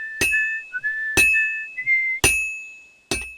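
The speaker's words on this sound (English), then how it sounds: "I let him start whistling and he just stops immediately" A character whistles a wavering tune in Kingdom Come: Deliverance II, broken by four sharp metallic ringing strikes spaced about a second apart, all close and clear.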